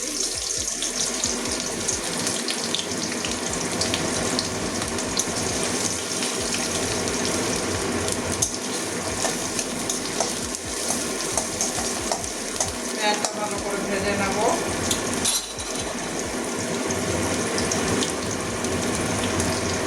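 Chopped onions hit hot oil already sizzling with tempering spices for a bottle gourd curry with fish roe, giving a loud, continuous frying hiss with occasional scraping and stirring clatter.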